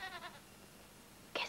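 A goat bleats, with a couple of quick, wavering bleats at the start and a brighter, louder cry at the end, separated by a quiet stretch of faint background hiss.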